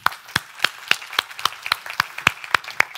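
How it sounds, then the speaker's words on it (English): An audience at a microbiome pitch event applauds with evenly spaced, fairly light claps, a sparse smattering rather than a dense ovation. "So I think we should all give you a warm applause."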